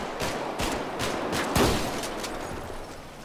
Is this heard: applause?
no